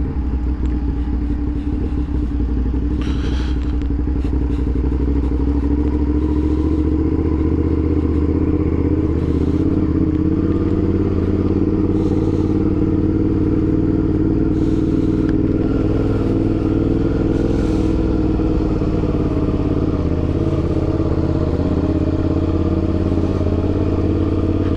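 A motorcycle rides steadily on a hot day, its engine a continuous loud rumble with rattling clatter and rushing road noise throughout.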